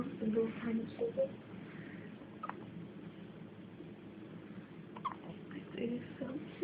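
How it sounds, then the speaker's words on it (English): Tiny hiccups from a two-day-old newborn boy, a few faint soft clicks spaced through the clip, heard close up under a low background hum. "You can hear it. Little tiny hiccups."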